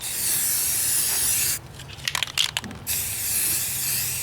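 A Rust-Oleum spray paint can spraying an ammo can gives one short, close hissing burst of about a second with a few sputtering puffs, set against steady background noise.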